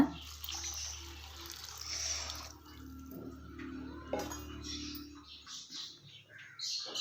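Water trickles and splashes into a container of rice nearby, a soft pouring sound with faint drips and a low background hum.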